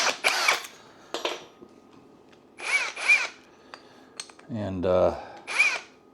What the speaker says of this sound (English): I'm going to drill one